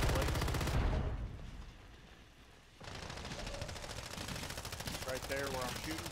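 Rapid video game gunfire rattles in dense bursts, drops away briefly, then resumes as sustained automatic fire with faint game sounds mixed in.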